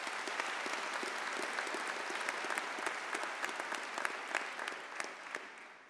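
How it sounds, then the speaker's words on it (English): A large commencement crowd applauds continuously, with sharp individual claps standing out over a dense, even wash of clapping that holds steady throughout. "Let's give these people a huge round of applause"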